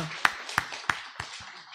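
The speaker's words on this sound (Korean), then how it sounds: "하나님께 영광의 박수 올리겠습니다." Five sharp, evenly spaced claps ring out in a church during a Sunday sermon, close and distinct, one person's hands rather than a full crowd, with a brief low voice at the start.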